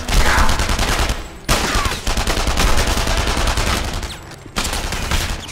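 Gunfire from the video game Enemy Front blasts in loud, sustained rapid-fire bursts, with short gaps between volleys and no talk over it.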